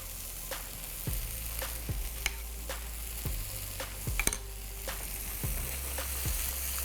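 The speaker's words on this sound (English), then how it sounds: "I'm going to drop the yogurt right in the center" Yogurt dropped into a pan of sizzling mushroom curry, giving a steady close frying hiss broken by sharp spoon taps and scraping stirs at irregular intervals.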